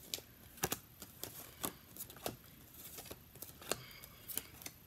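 Tarot cards being shuffled by hand, quiet close-up crisp riffles and light snapping taps in an irregular patter, soft and intimate against near silence.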